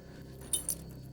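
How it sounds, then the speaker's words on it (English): A set of keys jangles briefly in a dark prison setting, two quick metallic clinks close by and fairly soft against quiet background hiss. "I've got my keys."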